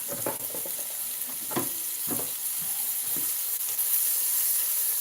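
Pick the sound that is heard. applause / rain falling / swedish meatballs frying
swedish meatballs frying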